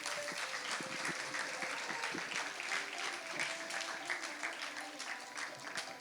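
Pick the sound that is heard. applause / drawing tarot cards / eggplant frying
applause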